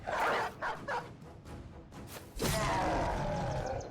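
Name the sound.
dogs barking in video game Battle Brothers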